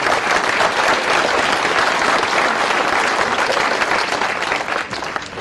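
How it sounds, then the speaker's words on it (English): Dense, sustained applause from a large audience fills a 2016 high school graduation ceremony at Sonoran Science Academy, steady and loud before tapering slightly at the end. "Give a round of applause, please."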